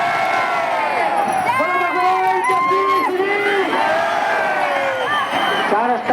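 A huge outdoor crowd of devotees at the 2024 Ahmedabad Rath Yatra roars and chants in praise as Lord Jagannath's chariot arrives. The loud, continuous cheering is full of rising and falling shouts, with clapping buried in the din.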